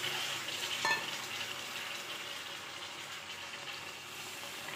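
Fish heads sizzle and fry in a pan for a Bengali murighonto, a dense, steady crackle of hot oil filling the whole stretch with no talking.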